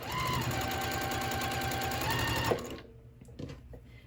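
Sewing machine chain piecing thin fabric for a scrappy mug rug, a fast steady motor whir with rapid needle ticking that stops abruptly after about two and a half seconds, leaving faint handling sounds.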